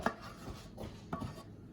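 Cheese sauce is scraped from a pot into cooked macaroni, with a few soft close scrapes and light utensil knocks against the pan over a short moment.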